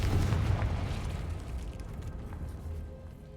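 A blasting-spell explosion in the Hogwarts Legacy video game, a loud rumbling boom that opens strongly and then rolls on as a dull, fading roar.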